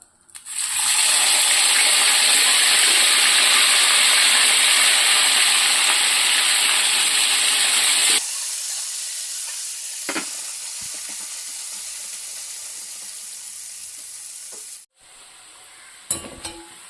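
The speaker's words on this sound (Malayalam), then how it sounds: "നമുക്ക് ബാക്കിയിരിക്കുന്ന ബീഫും കൂടെ ഇതേപോലെ ഇട്ട് ഫ്രൈ ആക്കി എടുക്കാം" Beef pieces frying in hot oil for a Kerala-style pickle, a loud, dense close-up sizzle that cuts off sharply partway through to a quieter hiss with a few light clanks.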